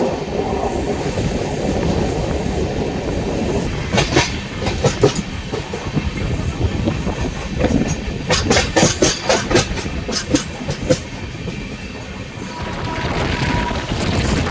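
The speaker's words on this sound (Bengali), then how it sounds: "ট্রেন এখন ক্রস করছে আমাদের বেলুড় স্টেশন" The 12347 Sahid Express from Howrah to Rampurhat runs through Belur station, heard from on board as a steady rolling rumble with repeated rhythmic clatters of wheels over rail joints in clustered bursts.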